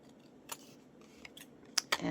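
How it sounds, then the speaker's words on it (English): A few quiet snips of scissors cutting paper, scattered and brief, with a couple of sharper crisp cuts near the end. "I want to cut her out. So I have my scissors."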